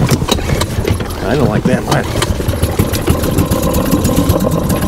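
Inboard engine of a 1972 Irwin 32-foot sailboat cranks and runs loudly with rough, rattling knocks close by, while someone talks over the noise.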